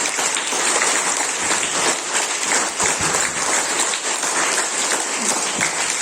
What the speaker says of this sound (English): So that's why give the big clap for her also.